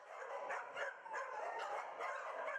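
Many dogs bark together at a Romanian animal shelter that houses about 750 dogs. The overlapping barks and yips form a steady, dense chorus at a moderate distance, with no voices.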